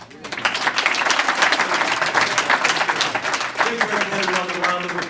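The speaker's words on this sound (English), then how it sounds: "Give everyone a round of applause, please." Audience applause at a prisoner reentry program graduation, dense sustained clapping from a sizable crowd throughout, with a voice speaking over it toward the end.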